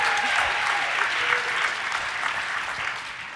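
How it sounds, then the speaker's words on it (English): An audience at a sports foundation summit gives a steady, dense round of applause for a youth athletes panel, continuous and full throughout. "Can I get a round of applause for the fun panel?"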